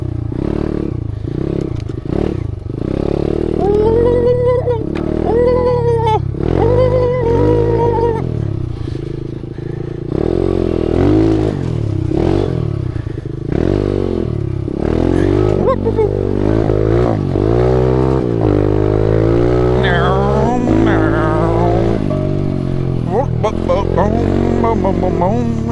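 An SSR125 pit bike engine revs and climbs through its gears while being ridden on dirt trails, running loud and steady the whole time with rising throttle sweeps and a rough clatter, and a voice is faintly present at times.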